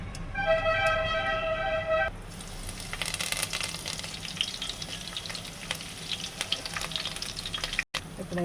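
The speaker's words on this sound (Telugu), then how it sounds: "జీలకర్ర వేసేస్తున్నాను." Cumin seeds hitting hot oil for a Sunday egg curry, with a steady close sizzle and crackle throughout; a brief harmonic beep or tone sounds over the opening couple of seconds, and a short dropout comes near the end.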